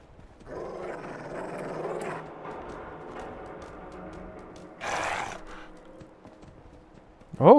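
In the Fallout 4 video game, the companion dog growls in attack mode: low rumbling snarls mixed into game noise, a brief harsher burst midway and a loud, sharp growl right at the end.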